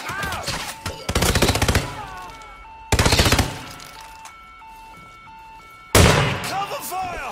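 Covering machine-gun fire in the video game Hitman 2, loud rapid bursts in three separate volleys with quieter game tones and effects in the gaps between them.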